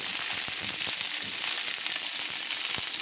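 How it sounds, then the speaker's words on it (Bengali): Cauliflower pieces frying in oil in a pan for a vegetable dal, giving a steady close sizzle with faint crackles and an occasional stir, with no talking. "ফুলকপিগুলো আমি তুলে দিয়ে ভেজে নিচ্ছি"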